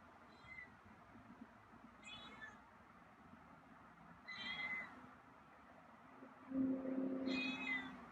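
A feral cat meows several times in short, spaced calls, the last one louder and more drawn out, over a faint low background rumble.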